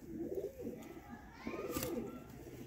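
Pigeons coo in repeated soft, throaty rolls from crossbred breeding pairs, fairly close, with a brief brighter rustle partway through.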